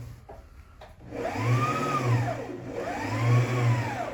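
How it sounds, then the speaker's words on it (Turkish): Elmas 990P sewing machine winding a bobbin, a steady motor whir that rises and falls in two long surges, close and fairly loud with no talk. "makine masurayı sararken makine kendini emniyete alır"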